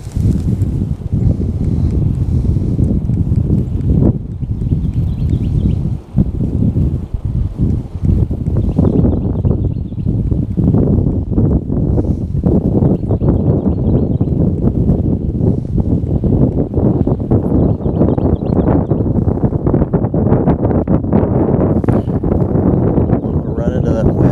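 Strong wind buffets a riverbank while fishing, a loud continuous roar and rumble of wind noise filling the whole stretch, with brief gusty dips and occasional rustling.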